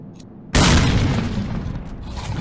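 A grenade explodes in S.T.A.L.K.E.R.: Call of Pripyat, inside Laboratory X8: a sudden loud blast that hits hard and then rolls into a long, heavy rumble that stays strong to the end.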